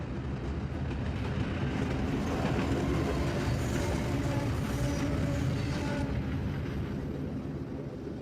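A train rolls past in a Tormented Souls 2 video game cutscene, a loud continuous rumble of railcars with rattling wheels and mechanical clatter, steady throughout with no talk.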